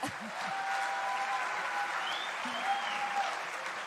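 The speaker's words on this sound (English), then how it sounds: "A big round of applause, people." A steady wash of applause from a large crowd at a live Save Soil event in Jordan, sustained and even throughout, heard at moderate distance.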